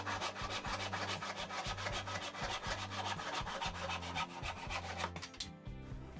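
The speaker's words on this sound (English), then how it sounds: "cut a couple of inches off of each leg to allow some clearance for the leveling feet" A saw cuts through the wooden legs of a bench, trimming a couple of inches off each, in a steady back-and-forth rasping rhythm of strokes; close and continuous, with no voices.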